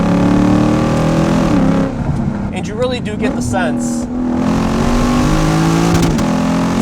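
Lexus IS F V8 sedan engine revving through downshifts, loud and throaty with rising and falling blips, running beneath someone talking throughout.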